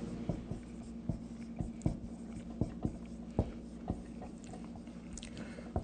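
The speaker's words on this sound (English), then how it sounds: "Let's write down probable cause." Pen or pencil writing on paper, close and fairly quiet, a run of scratchy strokes and taps in an uneven rhythm over a steady low hum, with no talk.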